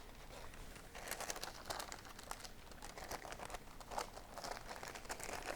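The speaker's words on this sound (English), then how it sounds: "And you just gently peel the wax paper off." Wax paper peeling off rolled-out pie crust over black raspberries, a soft continuous crinkling and crackling with faint tearing, close and quiet with no talking.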